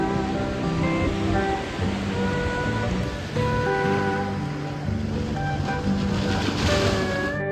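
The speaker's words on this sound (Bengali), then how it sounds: "দিগন্ত বিস্তৃত জলরাশি আর আছড়ে পড়া সমুদ্রের ঢেউ দেখলেই মনটা ভালো হয়ে যায়।" Sea waves crash at a river mouth near Digha, a broad continuous roar of surf with wind buffeting the microphone and faint tonal hums in the background, no one talking.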